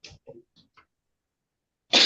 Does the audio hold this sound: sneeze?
yes